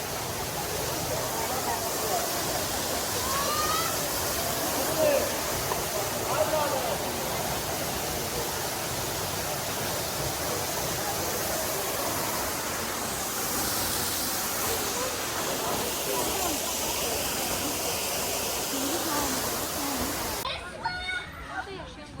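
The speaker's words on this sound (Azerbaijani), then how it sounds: "Bu da sizə Şirhal şəlaləsi." Shirhal waterfall in Astara, Azerbaijan, a steady broad rushing roar that fills the whole stretch, with people and children talking over it, ending in a brief sharper noise.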